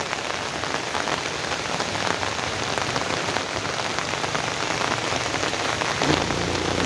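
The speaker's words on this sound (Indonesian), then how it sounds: "Di sini hujan deras." Steady, heavy rain pours down without pause, a dense wash of drops drumming on surfaces close by, loud and continuous throughout.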